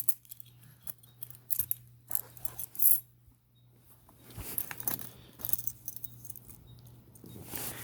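Handful of house and car keys once recovered from a river, jangling and clinking in several short metallic bursts close by, with a quieter rustling stretch partway through and a steady low hum underneath.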